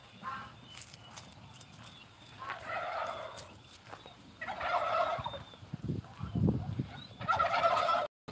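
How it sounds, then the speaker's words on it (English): Turkeys gobbling outdoors on a farm near vegetable plots in Chiang Rai, repeated bursts of gobbles spread over several seconds at moderate distance, with some background noise and no talking. "See all the turkeys over there?"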